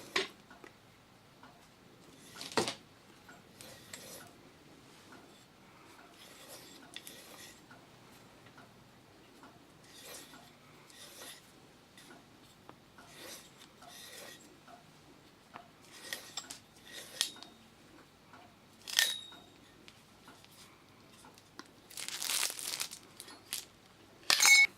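Hand-turned pipe cutter rotating around a Perspex tube for a table, producing faint, intermittent ticking and clicking scrapes with short sharper crackles as it is tightened between revolutions; quiet and close, with no speech.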